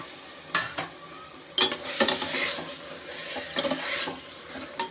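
Fresh shelled green peas tipped into a pot for pea rice and stirred, giving a few sharp clatters and scraping bursts over a soft, steady sizzle, close up with no talk.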